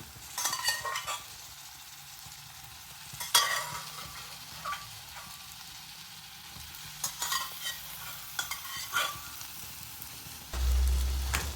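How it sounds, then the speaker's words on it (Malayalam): A utensil stirs squid roast with tomatoes in a pan, giving soft scraping strokes and occasional clinks over a quiet, steady sizzle. "നന്നായിട്ട് മിക്സ് ചെയ്ത് കൊടുക്കാം"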